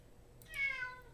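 A house cat gives a single short meow, fairly close but quiet, in an otherwise still room.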